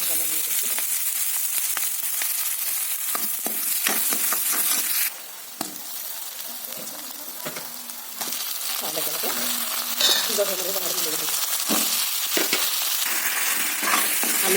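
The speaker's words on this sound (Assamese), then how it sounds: "আলু বিলাহী চব একেলগে ভাজি দিলোঁ মাছটো দি দিলোঁ" Fish fries with potatoes and tomatoes in a wok, giving a steady close sizzle broken by the scrape and clink of stirring throughout.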